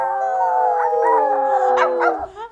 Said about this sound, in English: Coyotes. What sound do they make?